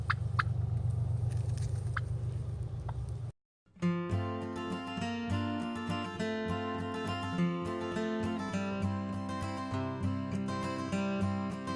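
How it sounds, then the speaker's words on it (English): A flock of Golden Palm turkeys on an organic homestead gobbling loudly and close, their rattling calls overlapping continuously over outdoor background noise, with one short pause. "we got turkeys now."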